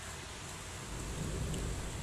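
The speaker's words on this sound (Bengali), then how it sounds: "আমি প্যানে দিয়ে দিলাম পেঁয়াজ কুচি। এটাকে ভালো করে আমি ভেজে নিব।" Chopped onion fries in a pan, giving a faint, steady crackling sizzle that thickens slightly toward the end, with no voices.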